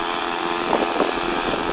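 A small yellow propeller plane drones in flight, a steady mid-pitched engine hum heard continuously without pause.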